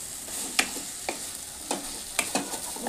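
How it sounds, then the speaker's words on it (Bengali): Papaya sandwich filling being stirred in a pan, with a soft sizzle underneath and scattered spoon taps and scrapes against the pan, close and quiet. "পুরটা একটু নাড়াচাড়া করে নেব।"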